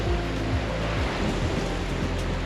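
Coastal waves whipped into whitecaps by a strong wind make a loud, continuous broadband roar, with low rumbling surges and no talking.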